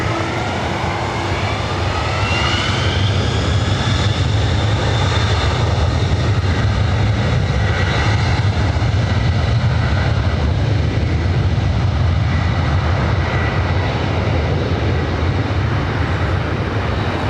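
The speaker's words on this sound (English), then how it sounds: "this flight heading to JFK, a 33-year-old 767-300 ER" A 33-year-old Boeing 767-300ER jet heading to JFK roars steadily with a broad, sustained engine rumble and a hissing whine, loud and continuous with no talking.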